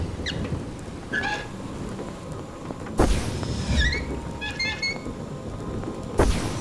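A thunderstorm in the video game A Fisherman's Tale: rain patters steadily while sharp thunder cracks hit twice, each followed by rumbling, with faint chirps scattered in between; no talking.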